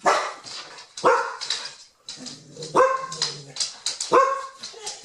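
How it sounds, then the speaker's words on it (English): Several dogs bark in sharp, loud bursts, a few barks overlapping, with short pauses between and a small yip near the end. "What are you guys barking at?"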